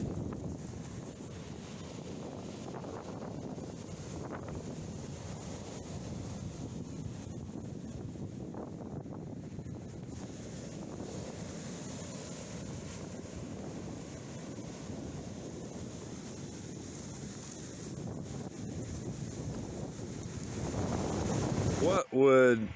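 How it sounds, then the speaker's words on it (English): Waves crash and roll over rocks at Rialto Beach, a steady, broad roar of surf mixed with heavy wind buffeting the microphone, swelling louder near the end. "crashing on the rocks, and the rocks tumbling as the waves come in and out."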